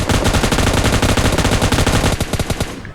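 Loud, dense automatic gunfire from PUBG Mobile Lite fills the whole stretch, rapid bursts running almost without pause, with no voices over it.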